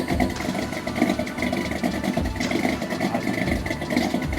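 Car engine with forged rods and crank idling as it warms up, a steady rough close rumble with an uneven low pulse and no talk.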